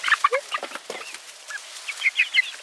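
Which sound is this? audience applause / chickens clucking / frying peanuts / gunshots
chickens clucking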